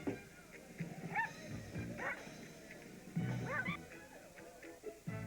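Dogs yip and bark in short, scattered bursts through a 1980s Bud Light beer commercial, mixed in with people talking over them at moderate volume.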